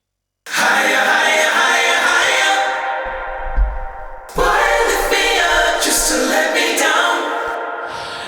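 A unison vocal choir stack sings sustained, full chords drenched in reverb and delays, swelling loudly, breaking briefly, then resuming in a second long held phrase.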